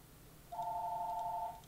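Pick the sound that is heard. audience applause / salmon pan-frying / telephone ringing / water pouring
telephone ringing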